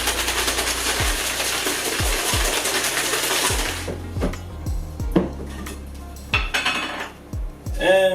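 A Wippermann Connex 11SX bike chain is shaken in cleaning fluid inside a container, giving rapid rattling and sloshing for several seconds, then a series of separate metallic clinks and knocks as it settles and is handled.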